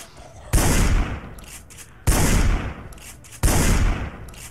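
Shotgun blasts ring out in Project Zomboid, three loud, close booming shots spaced about one and a half seconds apart, each with a short ringing tail.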